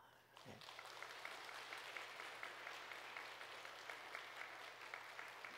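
A Methodist church congregation breaks into warm applause during a Sunday service, the clapping starting abruptly after a brief faint sound and continuing steadily, soft and somewhat distant.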